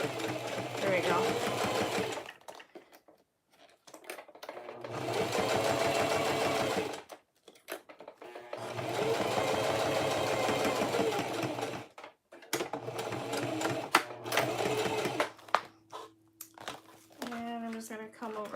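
Sewing machine stitching a clear plastic tote, several bursts of fast, steady mechanical whirring separated by pauses, with crinkling plastic handling and someone talking between runs.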